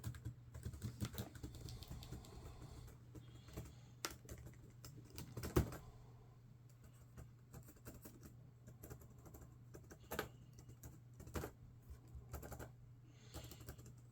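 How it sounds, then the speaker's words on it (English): Keys clatter on an old Dell laptop keyboard with a bent Control key, tapped in irregular bursts and single presses over a steady low hum, close and fairly quiet, with one sharper click partway through. "Everything else seems to work as far as I can tell in terms of the keyboard"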